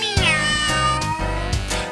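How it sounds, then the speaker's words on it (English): A cat meows in a long, drawn-out call, loud and close, with a few harmonic rises and shifts in pitch across the two seconds and no talk over it. "the cat says"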